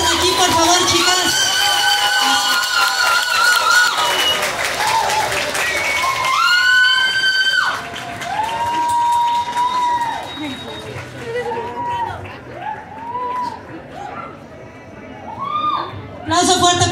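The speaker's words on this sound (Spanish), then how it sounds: "Aplauso fuerte para las chicas," A crowd at a contest prize ceremony applauds and cheers the winners loudly, with a continuous wash of clapping and whoops while a voice speaks over an amplified sound system and the noise rises and falls.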